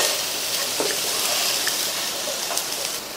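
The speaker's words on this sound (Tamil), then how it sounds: "உருளைக்கிழங்கு நல்லா மொறு மொறுன்னு ஃப்ரை ஆயிடுச்சு." Potato slices frying in hot oil for a Tamil-style crispy potato fry, giving a steady, close crackling sizzle with small pops throughout and no talking.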